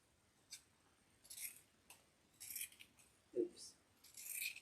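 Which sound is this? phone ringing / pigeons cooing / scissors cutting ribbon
scissors cutting ribbon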